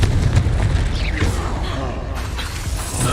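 A Confringo spell fires in Hogwarts Legacy, giving a loud booming blast with a whooshing burst and rumbling tail, close up amid ongoing game noise and mixed with a voice.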